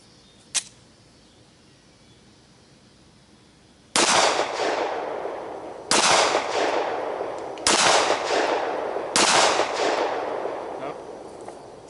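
A Glock 19 pistol firing 9mm FMJ ammunition outdoors, with one faint shot near the start and then four loud, sharp reports spaced about two seconds apart, each trailing off in a short echo.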